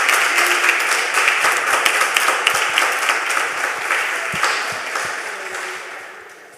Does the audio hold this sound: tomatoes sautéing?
no